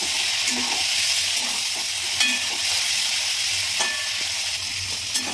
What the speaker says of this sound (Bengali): এখন চিংড়ি মাছগুলো ভাজা হচ্ছে